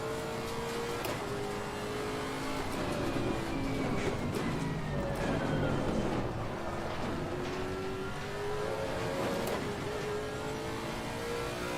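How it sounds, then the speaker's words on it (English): Bentley GT3 race car engine in Assetto Corsa Competizione, revving hard and continuously through rising and falling gear sweeps, loud and close, with no talking over it. "Engine feels really free revving, not like the Aston."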